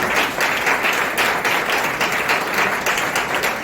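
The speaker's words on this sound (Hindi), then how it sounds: "परमेश्वर के नाम की महिमा में जोरदार ताली बजाते हुए" A church congregation breaks into loud, vigorous applause during a worship service, a thick continuous clatter of many hands with slight pulsing surges, close and full.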